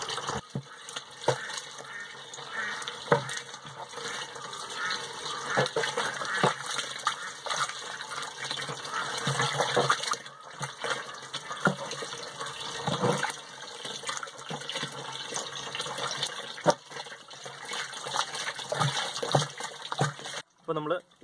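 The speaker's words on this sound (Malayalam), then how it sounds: "അപ്പോൾ നമുക്കിതിനി നഗര വെള്ളം എടുത്തതിന് ശേഷം ഇളക്കിയെടുക്കുക" Water is poured into fresh cow dung and stirred to make a liquid plant fertilizer, giving a continuous sloshing, gushing churn with irregular splashes and knocks throughout.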